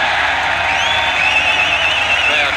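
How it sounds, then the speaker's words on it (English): Stadium crowd at a 1995 Pakistan versus Australia Test cricket match applauding a boundary shot, a steady wash of clapping and cheering with a few whoops, loud and sustained throughout. "Crowd clapping as though it's cleared the rope"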